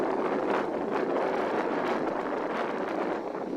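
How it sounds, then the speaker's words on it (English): Steady, loud wind gusting across the open Maine coast at Schoodic Point, a continuous broadband roar buffeting the microphone for the whole stretch, with no voices. "You can hear the wind, my goodness."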